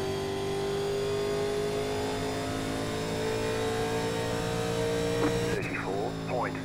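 A 1987 Legends NASCAR race car at Darlington Raceway in iRacing drones steadily on throttle, its engine tone holding near-constant and loud throughout, with a voice talking briefly near the end.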